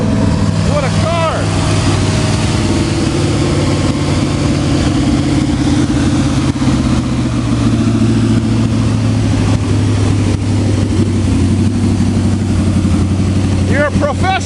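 A carbureted old car engine idles steadily after a cold start, loud and close with a rough, uneven rumble, while excited people talk over it throughout.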